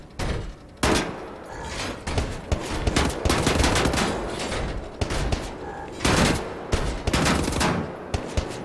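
Repeated bursts of video game gunfire, loud and close, with sharp separate shots and rapid automatic volleys.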